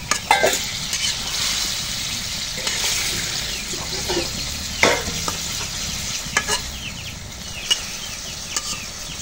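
Fish, a small sea variety, fry in spiced oil in a pan on a rainy day as a utensil stirs them, giving a busy sizzle with repeated scraping strokes and clinks throughout.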